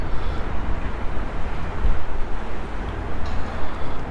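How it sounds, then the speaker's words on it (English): Strong wind buffets an outdoor spot near Everton F.C.'s new stadium construction, a loud, continuous rumbling gust noise hitting the microphone with uneven surges throughout. "it's really windy today"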